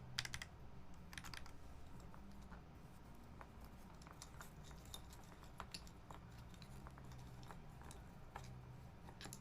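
Quiet, rapid clicking of keys being typed on a computer keyboard, a steady run of soft taps with occasional louder strokes, heard alone and fairly close.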